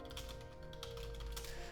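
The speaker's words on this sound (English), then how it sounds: "I'm just typing in chat." Fingers tap quickly and irregularly on a computer keyboard, quiet but close, over a low steady background hum.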